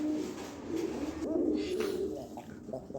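An English charna pigeon coos in low, repeated rolling calls over soft background noise in a bird-seller's setting.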